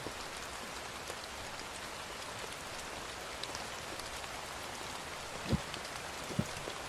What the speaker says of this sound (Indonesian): Hujan ini.